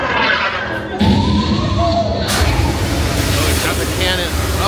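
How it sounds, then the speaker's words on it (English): A cannon blast effect from the Swedish Chef scene in the Muppetvision 3D theater attraction, a loud booming thud over a roaring, rumbling wash, with a voice briefly audible underneath. "he's got the cannon. Oh no! Blew up the entire theater."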